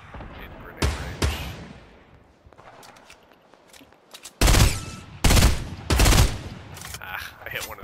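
Fortnite squad match gunfire: several loud bursts of rapid shots ring out at intervals, some isolated cracks and some sustained volleys, with quieter distant shots in between.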